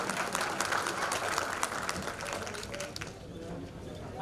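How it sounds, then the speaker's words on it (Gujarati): An audience gives applause to honoured daughters at a ceremony, a steady dense clatter of hands from a crowd that thins slightly toward the end, with a little background voice. "જોરદાર તાળીઓના ગણગણાટથી વધાવીશું."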